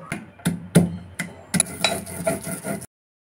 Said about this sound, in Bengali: সমস্ত উপকরণ এখন শিলে ভালো করে বেটে নেব।